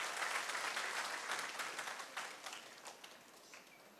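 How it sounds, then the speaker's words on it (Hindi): Audience in a mock parliament session applauds the assembled members, a fairly faint but continuous burst of clapping that gradually thins and fades over about four seconds. "सभी एक बार जोरदार तालियों से सभी हमारे सांसदों का, संसद का अभिनंदन करेंगे"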